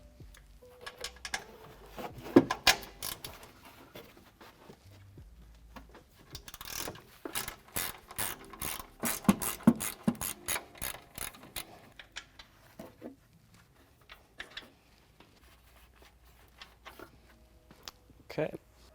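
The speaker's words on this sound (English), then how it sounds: "grab your 14mm socket, put it on the ratchet, and we're gonna loosen up the 3 nuts here holding on the top mount of the strut" Ratchet with a 14mm socket loosening the three strut top mount nuts on a Toyota Tacoma Fox 2.0 front coilover, rapid clicking bursts in several runs, near and fairly quiet.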